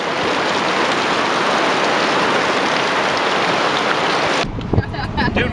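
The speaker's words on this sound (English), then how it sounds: "Look at this rain." Heavy rain pours in a dense, steady hiss during a torrential downpour at an outdoor worship gathering, loud and close, then cuts off abruptly near the end, leaving quieter ambient sounds.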